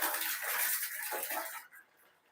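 Water pours into a 10 litre bucket from a tap during a geyser repair, a broad rushing splash that fills the clip before quickly tapering to faint trickles at the end.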